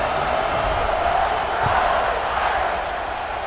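A stadium crowd in an American football video game buzzes as a steady, dense roar of distant voices after a touchdown, holding constant without distinct cheers.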